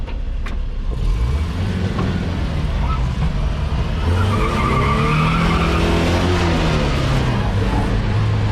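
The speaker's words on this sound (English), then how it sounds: "Want single tire squeal?" A 1966 Toyota Stout on a Toyota 4Runner chassis squeals its tires, a loud wavering screech rising and bending over engine noise for several seconds, with a voice talking nearby.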